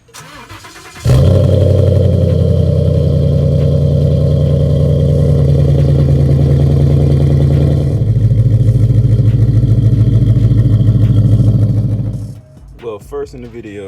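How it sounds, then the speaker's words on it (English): A car engine cold starts with a short crank, then settles into a loud steady idle that holds close by for about ten seconds, its tone dropping partway through before it cuts off. "let me give you this cold start"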